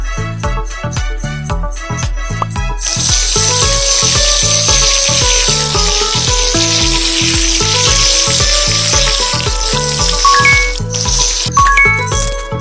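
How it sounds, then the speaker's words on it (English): Shower water in a kids' jungle animal hair salon game streams as a loud continuous hiss, layered over bouncy, regularly pulsing game music with chiming tones. "Shower time."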